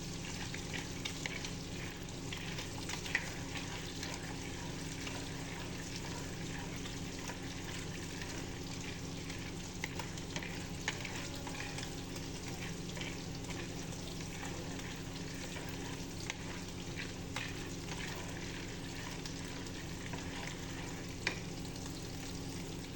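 Peanuts frying in a hot kawali, stirred steadily, give a continuous, even sizzle for the whole stretch, broken now and then by soft scraping of the spoon against the pan, with no talking.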